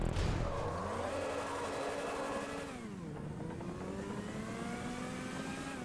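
Car engine in GTA Online strains and revs as the car tries to pull away, a steady rising then dipping engine drone with gear-like pitch shifts, loud and continuous throughout with no talk.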